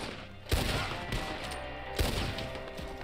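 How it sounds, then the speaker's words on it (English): Gunshots ring out in the Red Dead Online game, two sharp loud reports about a second and a half apart, each followed by rumbling echo over steady ambient noise. "Gunshot!"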